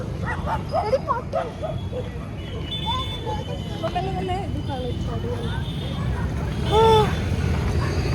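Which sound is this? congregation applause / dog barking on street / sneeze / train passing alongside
dog barking on street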